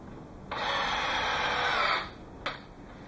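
A power drill drives a 3-inch wood screw into a wooden brace in one sustained, even whine lasting about a second and a half, then cuts off, followed by a short sharp click; close and loud, no voices.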